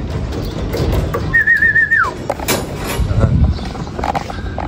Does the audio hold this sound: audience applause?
no